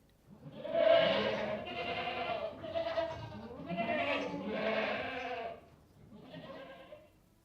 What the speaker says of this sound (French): Une chèvre.